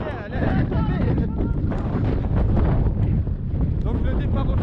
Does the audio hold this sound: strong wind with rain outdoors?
yes